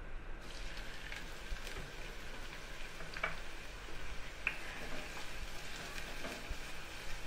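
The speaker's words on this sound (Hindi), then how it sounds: "ऑयल के गरम होते ही प्याज डाल देंगे।" Onions frying in hot oil for a potato sandwich stuffing, a faint steady sizzle with light crackles and occasional soft ticks from the pan.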